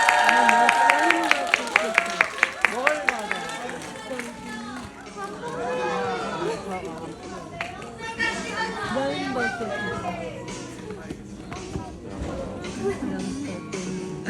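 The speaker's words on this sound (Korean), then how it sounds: "다시 한번 박수 부탁드립니다." An audience applauding at a film stage greeting in a Korean cinema, a burst of hand clapping early on that gives way to crowd chatter and cheering, while a speaker talks over the noise.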